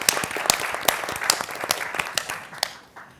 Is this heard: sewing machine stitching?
no